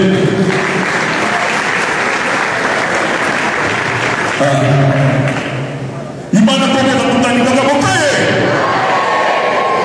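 Audience applause welcomes a speaker at a meeting of the Gabonese diaspora in Senegal, a loud, dense wash of clapping that runs throughout, with voices speaking over it midway and a brief dip before it swells again.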